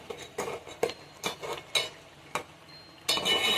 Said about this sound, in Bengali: হলুদ দিয়ে একটু আমি নেড়ে নিলাম।